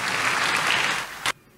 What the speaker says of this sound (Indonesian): Kasih tepuk tangan yang meriah untuk Tuhan Yesus.